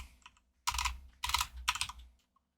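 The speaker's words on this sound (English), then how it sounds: "Go to the search bar here and type in stroke." Three short bursts of typing on a computer keyboard, the keys clattering close and crisp, with quiet gaps between the bursts.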